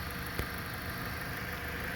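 A 2011 Jeep Patriot with about 190,000 miles sits idling, giving a steady, faint, even engine hum with a single brief click near the start and no talking.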